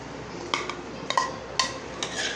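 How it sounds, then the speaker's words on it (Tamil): Paneer dropped into a pot and stirred with a metal spoon, giving a few sharp clinks and scrapes against the pot over a quiet background. "இந்த டைம் தான் நம்ம இதில் பன்னீரை போட போகிறோம்"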